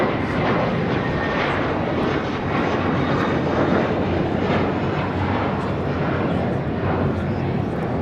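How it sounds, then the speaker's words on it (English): A JetBlue Airways A321 takes off from LAX bound for JFK, with a loud, sustained jet roar filling the scene while voices come through faintly beneath it. "This is JetBlue Airways 524 taking off to JFK on an A321"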